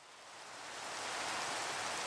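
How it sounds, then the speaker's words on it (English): Rain falling in the Minecraft video game, heard as a steady broadband hiss that swells gently louder over the first second and then holds constant, with no voices over it. "It's raining."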